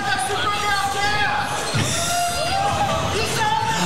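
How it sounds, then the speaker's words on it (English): A crowd at a Super Smash Bros. Ultimate grand finals cheers and yells loudly throughout, with whoops and general hubbub swelling around a close voice speaking over it. "They're making a lot of noise right now. Lots of cheers"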